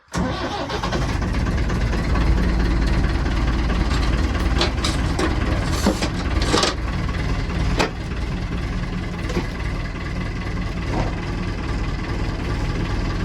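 A tractor diesel engine, fired up without preheating, settles into a loud, steady, rumbling idle right after starting, with a few clanks and rattles over the constant drone.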